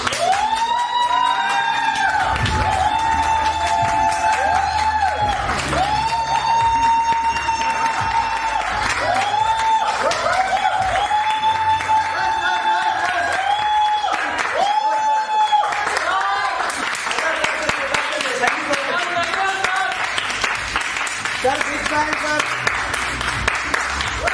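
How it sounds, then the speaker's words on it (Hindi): Audience applause from an earlier session builds beneath a tonal musical passage, then takes over as a broad, continuous patter of clapping and cheering toward the end. "ये जो आप लोग तालियां सुन रहे हैं ना दोस्तों, ये पिछले सेशन का नतीजा है"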